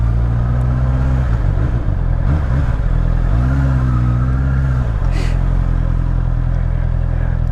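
A Honda CB650R motorcycle engine drones steadily and close, with the pitch rising and falling as the bike is ridden and filtered at low speed, wind noise running throughout.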